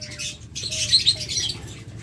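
Caged lovebirds chirp and squawk in quick, sharp bursts, some with light wing flutter, close and fairly loud.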